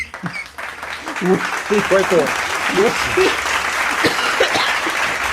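A few hosts on a sports talk show clap briefly while voices keep talking over them, with scattered close claps mixed into the chatter.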